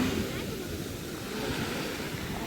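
Waves break and wash onto a seashore in a steady, fairly faint roar, mixed with some wind on the microphone.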